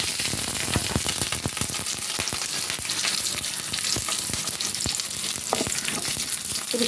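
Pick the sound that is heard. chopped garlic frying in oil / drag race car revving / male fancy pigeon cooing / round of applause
chopped garlic frying in oil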